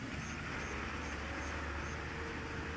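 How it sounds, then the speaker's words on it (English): Steady broadband rumble of nearby road traffic runs throughout, continuous and fairly loud, with no voices or distinct passing events standing out. "we are almost close to the road, and there is a bit of noises"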